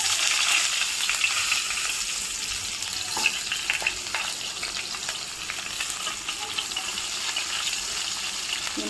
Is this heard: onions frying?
yes